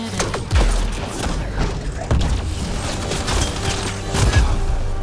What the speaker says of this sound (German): Irgendwas ist explodiert.